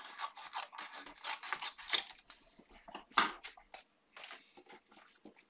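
Scissors snip and rasp through card stock while making a Valentine card. The cuts come quickly in short uneven strokes, soft and close, with no talking.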